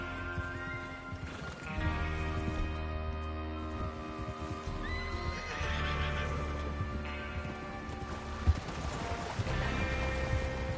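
Horses whinny and snort in Red Dead Redemption 2 over a dense bed of music and ambient rumble, with hooves clopping faintly beneath.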